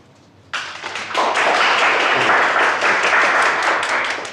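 A group breaks into applause in an office meeting, sudden after a quiet moment, then sustained dense clapping that continues loud until the end.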